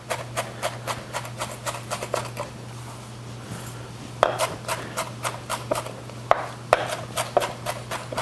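A knife chops cilantro on a cutting board in quick, evenly spaced strikes. A short pause breaks the chopping, then it resumes in the same close, steady rhythm over a low constant hum.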